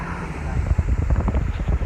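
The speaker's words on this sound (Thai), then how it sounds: "โอ้ลมแรงขึ้นแรงนี่" Strong wind buffets and rumbles loudly through an open car window during an evening drive near Ban Krut beach in winter, with a voice speaking over the gusts.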